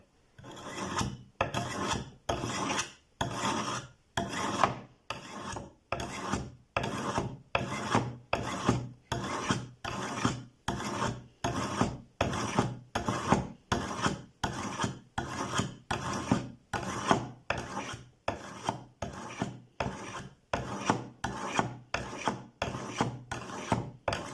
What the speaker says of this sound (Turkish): Kupa bardağımızı dik olarak sürüyoruz. Hafif eğim verdik bıçağın ağzına.